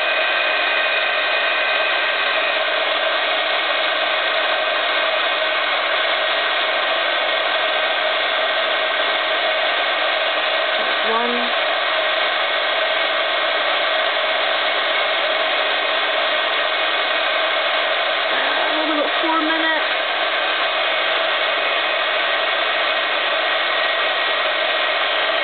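A handheld heat tool blows a steady, continuous whir while warming handmade purple fabric flowers, holding an even tone throughout with a couple of faint light handling sounds partway through and no talking.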